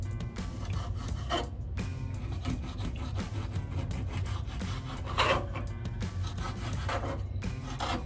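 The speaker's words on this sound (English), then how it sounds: "And we just want to slice them into strips." A knife saws steadily through steak, cutting it into strips on a cutting board, with repeated close rasping strokes and soft scraping against the board.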